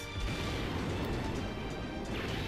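A meteor exploding during a Dragon Ball Z Dokkan Battle summon animation, a dense, loud, continuous rumbling blast with crackling debris, no talking.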